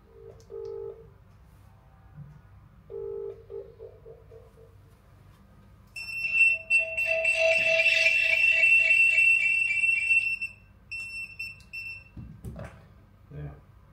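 A phone rings a hidden bug device while a bug detector responds. Two short low tones come first, then a loud, sustained warbling electronic alert lasting several seconds, followed by a few clicks and handling noises.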